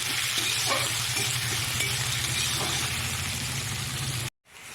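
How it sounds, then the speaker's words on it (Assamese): Chopped onion, garlic, ginger and green chili sizzle steadily in hot oil, a dense continuous frying hiss with occasional stirring scrapes, close and fairly loud, cutting off abruptly near the end. "নহৰু আদা জলকীয়া এইখিনি দিলো এতিয়া এইখিনি আকৌ ৰঙা হোৱালৈকে ভাজিম"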